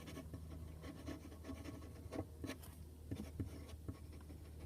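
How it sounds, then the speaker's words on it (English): A gold broad-nib Montblanc Meisterstück Hemingway Special Edition fountain pen writes on paper with faint, close scratchy strokes in a quiet room, with no talk. "I really like writing with the broad nib."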